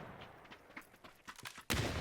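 In a PUBG match, gunshots ring out from behind the player: a scattered string of quiet, distant cracks, then a sudden louder burst near the end.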